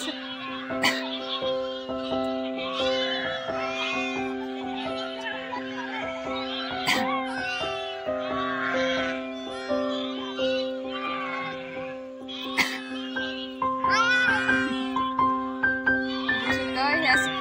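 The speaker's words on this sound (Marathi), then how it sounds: "मेंढ्या आपल्या पिल्लांना शोधतायत आणि पिल्लं सुद्धा एवढ्या सगळ्या बकरीतून आपल्या आईला शोधत आहेत" Many sheep and lambs bleat back and forth as ewes and lambs search for each other in a large flock, overlapping and near, over a steady droning hum with voices mixed in.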